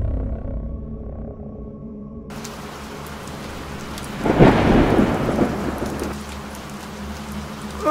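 Heavy rain pours steadily during a thunderstorm, and a loud rumble of thunder swells up in the middle and then fades back into the constant hiss of the downpour.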